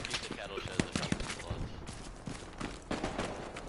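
Gunfire in the video game Hell Let Loose, heard as dense, overlapping rifle and machine-gun bursts with sharp cracks that blend with voices and battle noise.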